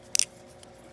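A balisong butterfly knife flipped through a scissor trick makes a quick pair of sharp, close metallic clicks, then falls quiet.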